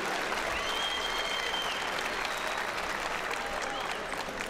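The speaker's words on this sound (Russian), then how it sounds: "Аплодисменты победителю!" Sustained audience applause fills a wrestling hall at a Russian Greco-Roman championship, honouring the winner of a 66 kg semifinal; dense, steady clapping with crowd noise continues throughout.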